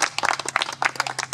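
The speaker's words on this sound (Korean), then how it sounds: "박수." Brief burst of applause at a Korean faculty gathering as a fourth-year professor is introduced, scattered claps fairly close and moderately loud, with a low steady hum underneath.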